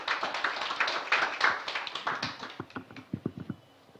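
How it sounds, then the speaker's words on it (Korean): Audience applause at a unification forum session, a dense wash of many hands clapping close and steady, then thinning into scattered individual claps as it fades out. "큰 박수 부탁드립니다."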